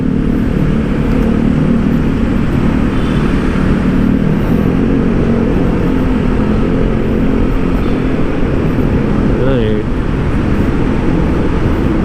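Steady, dense road traffic of trucks, private cars and large vehicles on Osmeña Highway in Manila near the Makati and Paco intersections, a continuous loud rumble with a brief horn-like tone near the end.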